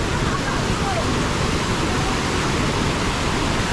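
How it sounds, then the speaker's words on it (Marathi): A mountain waterfall near Mahad in Raigad pours down as a steady, dense roar of rushing water, loud and unbroken throughout. "खूप पाण्याचा खूप आवाज येतो मित्रांनो"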